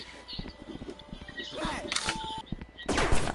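Gunfire in a Rec Room VR player-versus-player match rings out as scattered sharp shots, with a louder burst near the end, under continuous chatter from several voices.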